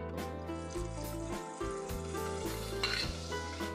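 Garlic frying in hot olive oil in a pot, sizzling steadily and close up with a stirring, clattering rhythm and short breaks, with no voices over it.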